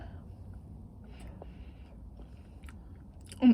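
A slice of plain Cheesecake Factory cheesecake topped with whipped cream is chewed close up, making soft, faint, moist mouth sounds over quiet room tone, with a brief louder bump at the very end.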